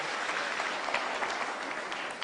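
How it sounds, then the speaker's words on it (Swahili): Mourners at a burial in Limuru give a round of applause for the religious sisters and nuns present, a steady, fairly faint wash of clapping from a crowd. "tuwapigie makofi ndio hao."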